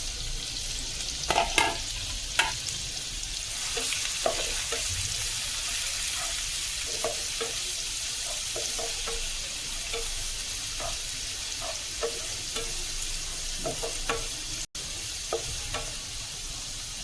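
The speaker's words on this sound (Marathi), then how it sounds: "कांदा लाल होईपर्यंत आपण थोडा वेळ भाजून घ्यायचा" Chopped onion sizzles steadily in a hot pan for a green jackfruit curry, a continuous close frying crackle broken by occasional clinks and scrapes of stirring.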